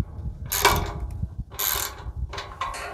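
Nuts are tightened with a ratchet on the rear of an LED light bracket on a semi truck bumper, heard as three close bursts of rapid ratcheting clicks separated by short pauses.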